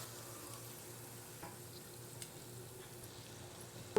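Buñuelos fry in hot oil that is darkened by burnt flour, giving a faint, steady sizzle with a few soft clicks and no talking.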